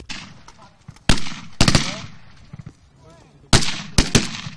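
Military assault training with an RPG salvo and gunfire: a few loud, sharp blasts and cracks arrive in clustered bursts, separated by quieter stretches of rumbling background.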